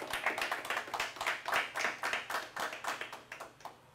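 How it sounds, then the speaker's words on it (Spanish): Congregation clapping at a church sermon, steady rhythmic handclaps in unison, moderately close and lively, with no talk over them. "Denle otro aplauso al Señor."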